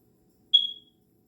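A single high-pitched chirp from a smoke alarm installed in April, a short bright electronic beep lasting about a third of a second, followed by near silence.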